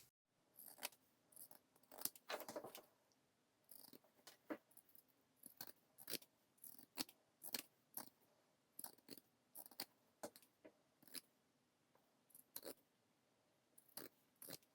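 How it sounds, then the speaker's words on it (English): Pinking shears snipping fabric around the curves of a pocket belt sewn from an old skirt, a series of short, crisp metallic cuts in uneven rhythm, close and quiet with no talk. "I'm going to cheat and I'm going to use pinking shears."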